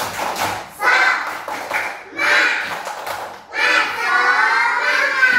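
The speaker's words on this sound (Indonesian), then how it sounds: "Tepuk semangat." A school class doing a rhythmic group clap, three bursts of patterned clapping mixed with children's chanting and shouting, loud and close in a classroom.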